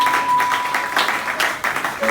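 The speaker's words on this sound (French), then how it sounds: "Applaudissez très très fort." A church congregation applauding during a Sunday worship service, loud close clapping with uneven bursts and a faint tone sounding briefly over it.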